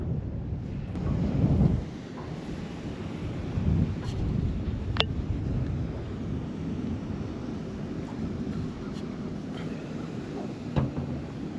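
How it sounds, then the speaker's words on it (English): Steady wind gusting over a lake during winter crappie fishing from a drifting boat, a continuous broadband rush with low buffeting against the microphone and a few faint knocks, no talking. "letting the wind just blow me backwards"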